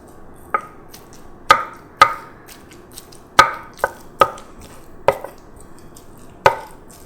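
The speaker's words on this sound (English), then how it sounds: "Let's chop it into pieces with a bench knife." Tender, falling-apart pork carnitas chopped with a bench knife on a board: about ten sharp, separate knocks at an uneven pace, close and clear, with no talk.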